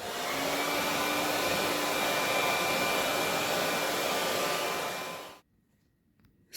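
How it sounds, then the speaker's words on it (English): A hair dryer blows in a steady, loud whoosh across damp crochet box braids for about five seconds, then switches off and leaves near silence. "I'm actually going to use a blower to blow them so that they dry out quickly"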